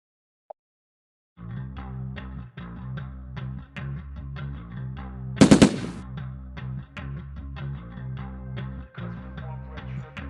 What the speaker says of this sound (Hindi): सुबह वहाँ पे फायरिंग स्टार्ट कर देता है